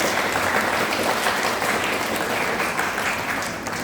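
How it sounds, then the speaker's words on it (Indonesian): A school audience of students gives dense, continuous applause on a rainy day, loud and even throughout before tapering slightly at the end. "Tepuk tangan untuk anak-anak sekalian hari ini"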